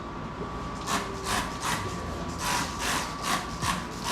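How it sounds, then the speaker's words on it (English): Wet sanding a car hood by hand with 2000 grit sandpaper gives a soft, rhythmic rasp, the strokes swelling and fading in a steady back-and-forth pattern, close up with no talk. "we're going to do some wet sanding, a little bit, just 2000 grit"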